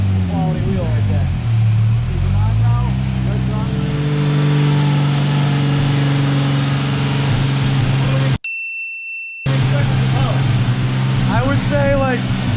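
Toyota Supra engine revving hard on a dyno, a loud sustained roar with rising and falling harmonic sweeps, cut by a brief dropout before the revs climb again; people talk over it.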